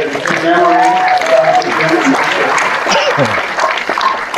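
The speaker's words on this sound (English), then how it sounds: "Let's have a round of applause." An audience at an anniversary Q&A event claps steadily while a voice speaks over the applause.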